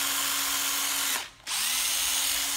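An old Japanese 9.6V cordless drill with five clutch settings and a drill mode runs with a steady, loud motor whine, cuts out briefly and spins back up, with no talking.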